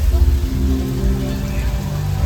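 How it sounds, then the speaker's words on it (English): Artificial rain falling from sprinkler rain rigs on a film studio back lot, a dense, steady hiss of drops hitting the ground, loud and close with no voices. "Now this rain, this is created by our sprinklers."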